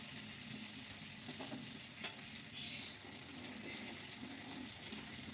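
Brinjal and small tomato pieces fry quietly in a little oil in a pan, giving a faint, steady sizzle with a brief clink near the middle and a short burst of stirring.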